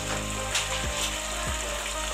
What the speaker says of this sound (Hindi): और इसको मैं अच्छे से भून लूँगी छोलों को।